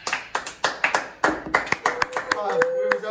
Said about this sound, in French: Applaudir, vous avez le droit.